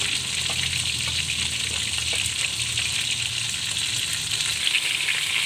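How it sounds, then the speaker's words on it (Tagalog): Steady, crackling sizzle of tilapia frying in hot oil until crispy, close and continuous with no talking. "Prito muna tayo ng tilapia."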